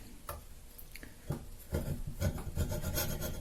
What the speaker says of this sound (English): I'll just draw a line to sort of keep me within the range, and then I hand saw this